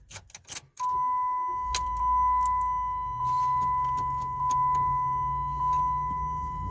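A 2006 Dodge Dakota 4.7L with a transmission fault stuck in gear: key clicks and jingles, then the engine restarts into a steady idle hum with a persistent warning chime tone.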